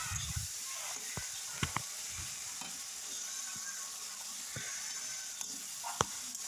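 Tomatoes and green chillies fry quietly in hot oil with a steady soft sizzle, broken by occasional spoon scrapes and light clinks against the pan.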